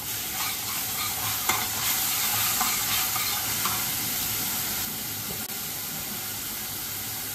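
Onion with ginger garlic paste sizzles steadily in hot oil for a mustard chicken dish, with scraping stirring strokes over the constant close frying hiss and no talking.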